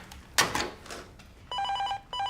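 A telephone bell rings in two loud bursts after some brief rustling, close and clear in an indoor room.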